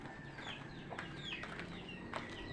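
Soft, distant clucking from chickens repeats a few times over a steady background hum.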